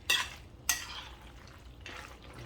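Macaroni and cheese is mixed in a long baking dish: a few soft, separate scraping strokes of a utensil, close and quiet, with pauses between them.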